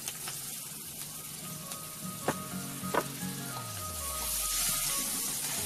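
Green chilli and ginger hit a pan of frying cashews and whole spices for a masala, producing a steady close sizzle with a few sharp clinks of a spoon against the pan.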